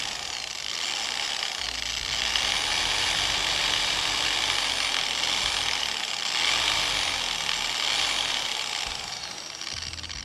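Adam's SK Pro 15mm Swirl Killer polisher runs steadily on the car paint of an R32 GT-R, a continuous close whirring drone with a faint rising and falling pitch throughout.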